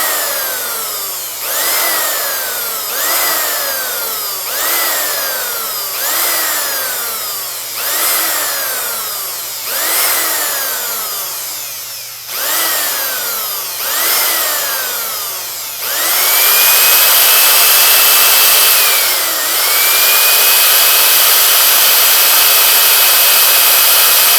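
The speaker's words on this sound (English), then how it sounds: "we're going to use the finer grit sanding sticks to take some of the major scratches out of this" Sanding sticks of finer grit held in a chuck grind against an old-school rotator in a repeating series of rising, whining passes, each starting and decaying in a steady rhythm, then a continuous higher-pitched grinding whine takes over; loud, close, and with no talking.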